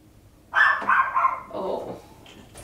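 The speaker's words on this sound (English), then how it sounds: "No barking." A dog indoors gives a loud, close burst of barking, two or three quick yips that trail into a lower whine, and then it goes quiet.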